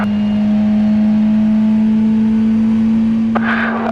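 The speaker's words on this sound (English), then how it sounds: "We are on the main straight, we go up to 5th gear." A race car on the main straight at the 2019 Barcelona round accelerates up to fifth gear, its engine a loud, steady, close droning tone throughout.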